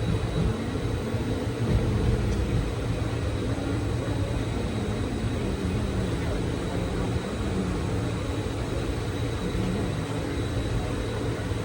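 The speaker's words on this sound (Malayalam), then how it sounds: "വല്ലപ്പുഴ സ്റ്റേഷനിലേക്ക് ഇതാ ട്രെയിൻ എത്തുകയാണ്." A passenger train pulls into the single-platform Vallapuzha station on the Nilambur Road–Shoranur line, a loud, continuous low rumble with droning engine tones across the whole stretch.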